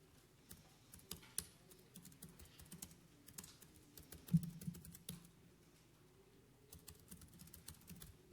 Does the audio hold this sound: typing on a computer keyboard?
yes